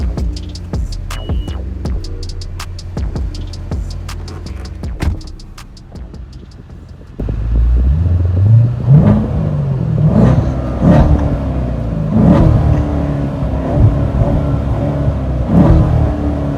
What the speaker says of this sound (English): rev up the engine, and hear the awesome V8 sound